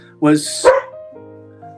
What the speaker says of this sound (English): so you may hear a border collie barking.